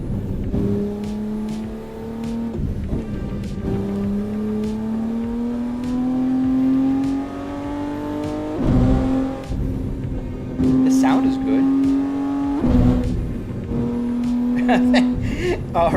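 A car engine in a driving simulator video game played with a BMW steering wheel revs repeatedly, rising and falling through gears in a steady droning whine, with someone talking over it.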